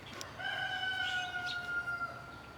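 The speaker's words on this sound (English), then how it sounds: "Neighbor's rooster down here checking his girlfriends that he can't get to because they're inside of a cage." A neighbor's rooster crows once, a long drawn-out call carrying from a short distance over quiet outdoor background, with no other voices.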